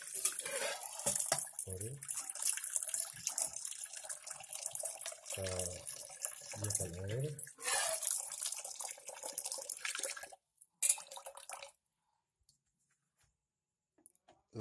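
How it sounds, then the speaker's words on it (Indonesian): Tap water running into a cooking pot to prepare water for boiling noodles, a steady splashing stream that stops partway, resumes briefly, then gives way to near silence, with a person speaking quietly. "pertama kita menyiapkan air buat rebusan mie-nya ya"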